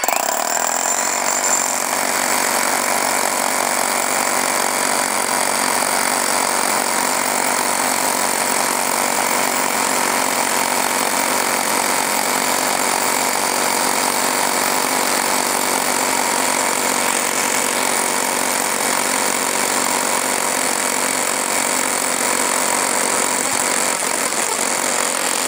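Two SDS Max rotary hammers, a Metabo and a Bosch, drill with new 20 mm bits in a steady, loud, continuous grinding roar that runs unbroken for the whole stretch, with no talk over it.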